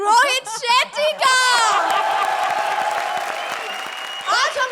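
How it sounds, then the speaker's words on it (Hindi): Studio audience applause with scattered whoops and laughter on an Indian TV comedy show, loud crowd clapping swelling midway under an excited host's speech at the start and end. "round of applause"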